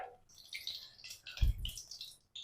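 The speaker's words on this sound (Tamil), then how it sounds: "அதுக்கு எண்ணெய் சேர்த்துக்கிறேன்." Cooking oil is poured into a pressure cooker for tomato bath, giving a short, soft liquid trickle and drip with a brief louder splash partway through.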